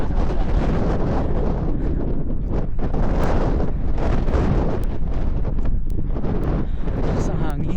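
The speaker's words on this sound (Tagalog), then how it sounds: "Lakas ang hangin." Strong, cold wind blows hard outdoors on a walk in New Zealand, roaring steadily into the microphone with heavy buffeting and no letup for the whole stretch.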